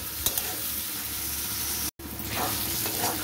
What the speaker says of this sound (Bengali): পেঁয়াজটা থেকে অনেকটাই তেল ছেড়ে এসছে, কিন্তু এটা আমার আরও ভাজা বেরস্তা মতন ভেজে নেব